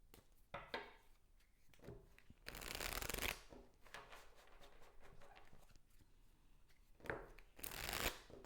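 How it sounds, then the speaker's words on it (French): Tarot cards shuffled and drawn at a close, quiet table: soft riffling bursts and slides, with two louder shuffles standing out among lighter card handling and taps. "le temps que je tire les cartes"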